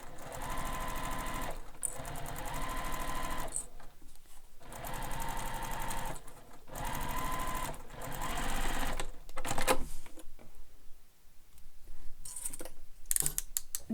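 A sewing machine stitches a seam on a handheld bag, running in several sustained whirring, rapidly ticking bursts separated by brief pauses, close and loud, with no talking.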